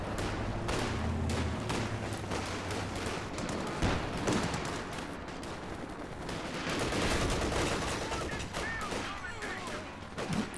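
Battle in Company of Heroes 2 as a Raketenwerfer opens fire on a Stuart tank: dense rolling bursts of gunfire and heavy booming blasts that go on throughout, loud and chaotic, with a commentator talking over them.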